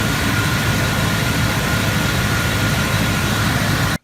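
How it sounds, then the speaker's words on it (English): A Dodge Ram truck engine idles steadily after a jump start from a weak battery with headlights and fog lights on, a loud, even, low rumble close by that cuts off abruptly at the end. "So it jump started it with a weak battery and with the headlights and fog lights both running."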